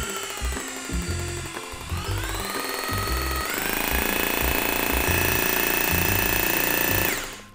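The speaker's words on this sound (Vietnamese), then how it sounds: "Rồi đây chức năng khoan thường. Chức năng khoan bê tông." A Bosch drill runs in concrete (hammer) drilling mode, a steady close-up mechanical whine with rapid rattling percussive pulses throughout, rising in pitch and intensity midway before cutting off at the end.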